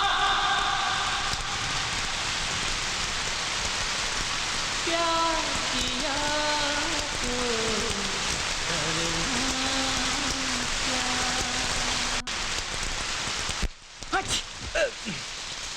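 Steady broadband hiss of rain falling throughout, with a voice singing or speaking over it in the middle and a few louder knocks near the end.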